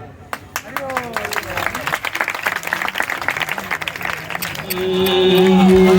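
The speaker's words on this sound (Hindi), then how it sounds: "आपकी तालियां होनी चाहिए" Audience applause fills a Ram Katha religious gathering in Karachi, with dense, steady clapping from a large crowd. Voices mingle in, and a louder sustained tone swells near the end.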